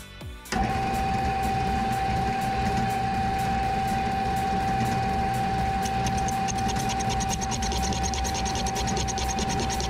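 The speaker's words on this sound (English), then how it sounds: "get this lathe spinning, see how it goes" A metal lathe spins steadily while knurling a piston, starting abruptly and then holding a constant mechanical whir with a steady tone, joined by a rapid, regular ticking chatter partway through. The sound is loud and close, with no voices.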